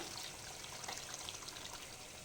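Water boiling in a cooking pot while chicken cooks, a steady bubbling hiss that holds at a soft, even level throughout with no voices.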